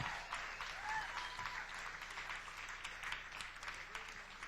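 A comedy club audience at the Laugh Factory in Los Angeles claps for a first-time stand-up performer: fairly faint, continuous applause with some voices mixed in.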